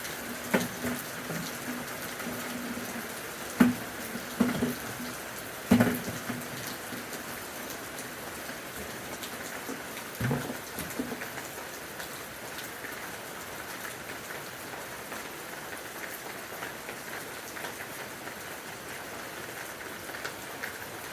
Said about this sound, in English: Oh, it was a quick shower.